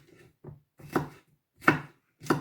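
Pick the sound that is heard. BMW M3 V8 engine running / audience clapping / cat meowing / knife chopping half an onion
knife chopping half an onion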